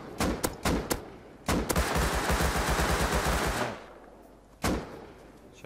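Rapid bursts of gunfire in the survival video game Rust: a few sharp separate shots, then a sustained rattling volley lasting about two seconds, followed by another single loud shot, all close and loud with no talking.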